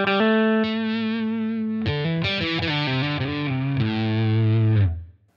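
An electric guitar runs through a Line 6 Helix modelling a Boss HM2 Heavy Metal pedal for a Swedish chainsaw tone with the bass cranked. Sustained, saturated chords change a few times and ring out alone before cutting off.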